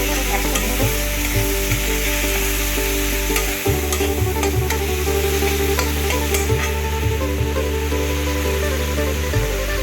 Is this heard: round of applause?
no